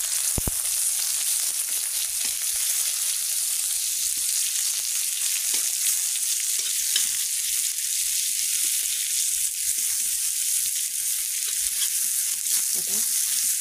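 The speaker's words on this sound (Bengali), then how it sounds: "এবারে দিয়ে দেবো ফোড়নে 5 ফোড়ন, জিরে, আর দিয়ে দিব কেটে রাখা পেঁয়াজ। এটাকে ভালো করে ভেজে তুলে নেব।" Chopped onion fries in hot oil with panch phoron and cumin, giving a steady loud sizzle throughout, with occasional stirring scrapes and no talk.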